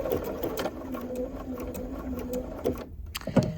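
A Bernina sewing machine stitches a button in place, a fast rhythmic mechanical whir that runs steadily and then stops abruptly near the end, followed by a couple of clicks.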